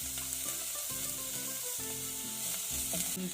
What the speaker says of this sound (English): Stirring the garlic and onions around until they're golden and crispy.